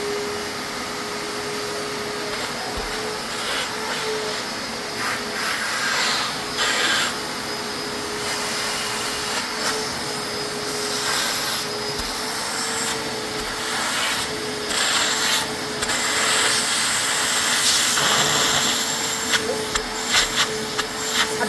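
A Perfex 2200-watt vacuum cleaner with a 20-litre drum runs continuously, a loud, steady motor whine and airflow rush with occasional rubbing and knocking noises.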